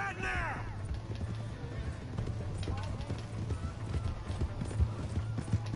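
Rapid hoofbeats of a galloping horse in Red Dead Redemption 2 clatter steadily, with a brief whinny at the start and a low engine-like hum beneath.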